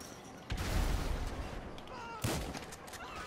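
A single loud shotgun blast in GTA 5 during a chaotic shootout, with a second sharp report following about two seconds later amid constant game noise.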